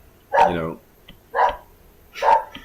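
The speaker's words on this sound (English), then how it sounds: "My dogs are going crazy." Dogs barking at home, three loud, close bow-wow barks spaced about a second apart, each one sharp with a short tail and quiet between.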